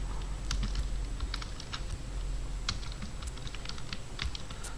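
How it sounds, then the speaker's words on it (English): A PowerShell command being entered on a computer keyboard: rapid, irregular key clicks and taps, close and moderately quiet, with no voice over them. "And now we are going to type in the command invoke-webrequest."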